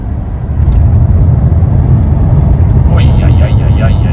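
A Mercedes V12 engine pulls hard through third gear, a loud, steady, deep roar that holds throughout. A faint voice comes in near the end.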